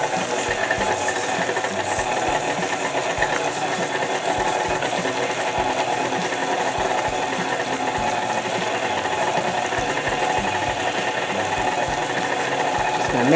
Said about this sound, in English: That's a lot of meat for my little mixer.